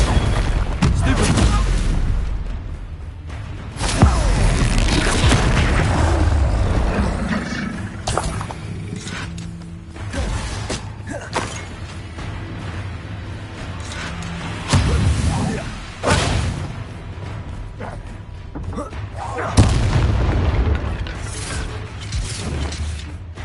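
Spell blasts from Confringo and other combat spells in Hogwarts Legacy, heavy booming thuds and crackling bursts repeating every few seconds amid busy fight noise and music, with a voice speaking intermittently.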